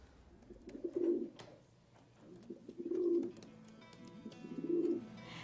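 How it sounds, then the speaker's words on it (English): Pigeons cooing nearby in three soft, throaty bursts separated by short pauses, with no talking. "a kind of bird that we often see every day perched on rooftops or sunning themselves in city parks, the pigeon"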